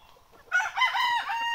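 On a free-range farm, a Sonali desi rooster lets out a single short, close crow that rises out of quiet background clucking.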